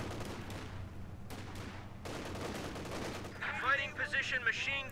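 A .50 cal machine gun on a fighting position fires in a Company of Heroes 2 battle. Its rattling bursts blend into dense, continuous combat noise, with sharper, busier clatter toward the end.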